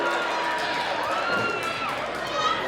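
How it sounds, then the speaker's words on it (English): A capacity crowd at a no-DQ wrestling match, a dense steady roar of cheering arena spectators under continuous excited commentary. "Feeding off of this capacity crowd one more time."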